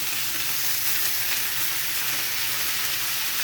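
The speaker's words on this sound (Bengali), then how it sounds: "ভালো করে আমি এগুলো নেড়ে নিচ্ছি খুন্তি দিয়ে।" Food sizzles steadily in hot oil while a metal spatula stirs it in a pan, an even, loud, close frying hiss with faint scraping and no talking.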